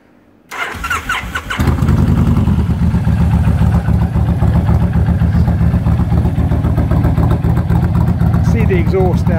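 A trike engine cranks and catches, then settles into a loud, steady rumbling idle with a throbbing note from short exhausts, close by.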